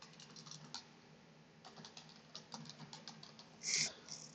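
Fingers tap quickly on a Bluetooth computer keyboard, giving a quiet, close patter of key clicks in uneven bursts with a brief pause midway.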